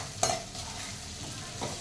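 Paneer cubes fry in a pan with carrot and capsicum for veg fried rice, a steady soft sizzle with stirring scrapes and a sharper clatter near the start, no voices.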